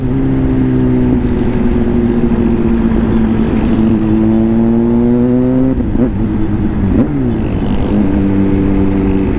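A Kawasaki ZH2 1000cc motorcycle on a test ride, heard up close as the engine drones and rises through revs, with a couple of quick gear-change dips before pulling again; no talking.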